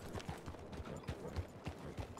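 Horse hooves clip-clop in a steady rhythmic gait in a video game, moderately close, with no talk over them.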